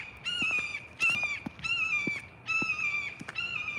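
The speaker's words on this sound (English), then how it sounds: "You know, I think that's a hawk." Hawk calling as it flies overhead outdoors, giving four or five loud, drawn-out screeching cries in close succession with brief gaps between them.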